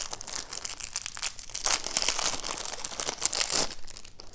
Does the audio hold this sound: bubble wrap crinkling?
yes